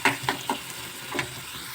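Onions and green chillies frying in oil, a steady close sizzle with four or five quick scraping stirs spaced irregularly across the short stretch.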